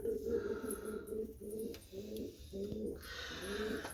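Tumbler pigeons in a loft with chicks give low, rolling coos in repeated phrases, close and continuous, with a faint higher chirp near the end.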